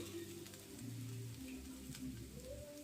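Bajra (pearl millet) dosa batter sizzles on a hot pan, a soft, steady frying hiss heard close and quiet with no talking.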